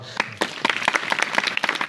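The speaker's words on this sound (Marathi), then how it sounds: "गर्दी जमली ना त्याबद्दल टाळ्या वाजवा" Crowd applauding at a kirtan gathering, a short burst of dense, fairly close clapping that swells after a brief start.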